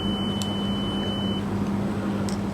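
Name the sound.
multimeter continuity beep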